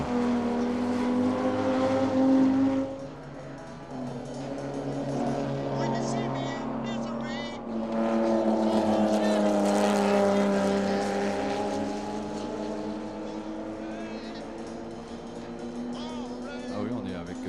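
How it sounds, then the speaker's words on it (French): Classic race cars of Plateau 2 lap the Le Mans circuit at Le Mans Classic, engines rising and falling in pitch as they pass, with a French commentator talking over them throughout. "Dernier tour pour les voitures du plateau 2, donc pour Andy Wallace, le leader."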